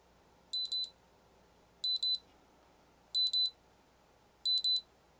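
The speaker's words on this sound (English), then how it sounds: "you enable the buzzer and it turns on an audible locator sound" A remote ID drone module's locator buzzer, the HSRID02, chirps in four evenly spaced double bursts of high-pitched beeps about a second apart, thin and fairly quiet over a faint background hum.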